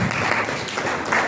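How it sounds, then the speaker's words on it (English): Audience applause for a speaker at a national stakeholder meeting on tobacco control, a dense, steady wash of many hands clapping at moderate volume, continuous and unbroken throughout. "Let's kindly give her a warm round of applause."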